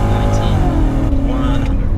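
A BMW E39 540i V8 sedan accelerates hard during a 0-100 km/h run, its engine note rising in pitch through the revs, heard from inside the car alongside a voice.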